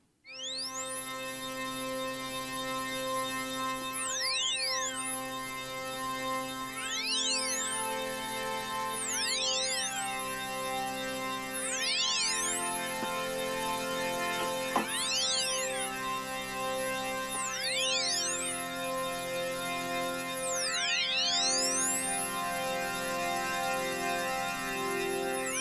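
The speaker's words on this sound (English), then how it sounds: "I'm going to turn the resonance way up so we can hear that motion a bit." A Hydrasynth pad with its filter resonance turned way up. Sustained chords carry resonant sweeps that rise and fall repeatedly under envelope motion, steady and fairly quiet, with no voices.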